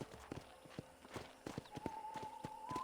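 Horse hooves clip-clop in a steady walking rhythm in the Red Dead Redemption video game, with a series of moderately loud, evenly spaced hoofbeats.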